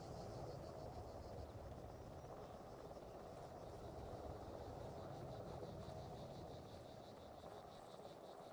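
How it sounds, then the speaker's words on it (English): NATO Ghost Hawk helicopter in ArmA 3, a faint, steady rotor and engine drone with a low rumble, continuous and distant for the whole stretch. "What about that NATO helicopter behind us? Ghost Hawk."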